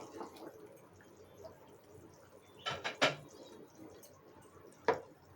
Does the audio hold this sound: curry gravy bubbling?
yes